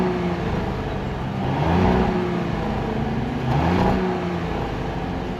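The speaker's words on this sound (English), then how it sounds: "We should get a couple exhaust blips so you guys can hear what that sounds like." 2025 Audi Q8 engine giving two rising exhaust blips, each swelling and falling back in a smooth revving whir, heard close against a steady background hum.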